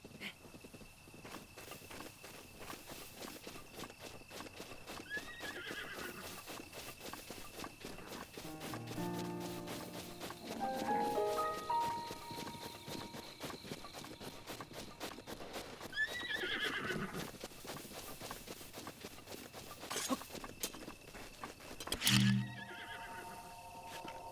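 Horses neigh and whinny a few times over steady hoofbeats in The Legend of Zelda: Breath of the Wild, with game music and effects in the background; no talking.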